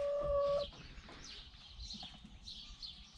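A hen clucks softly while laying an egg in a small pen shared with a calf, a few faint, scattered clucks close by, following a brief high tonal note at the start.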